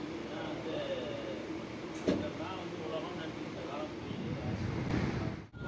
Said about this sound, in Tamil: இப்போ நம்ம ட்ரெயின் திருநள்ளாறில் 1 நிமிஷம் ஸ்டாப்பிங் கொடுத்து எடுக்க ஆரம்பிச்சிட்டாங்கங்க